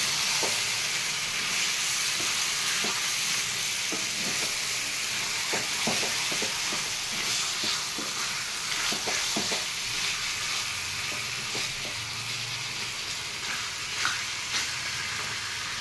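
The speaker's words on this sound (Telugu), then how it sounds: "ఆ చికెన్ వేసేద్దాం. ఇది హైలోనే 2 నిమిషాలు ఉడకనివ్వాలండి." Chicken sizzles and fries on high heat in a kadai, a constant crackling hiss with occasional stirring clinks, close and steady throughout, with no talk.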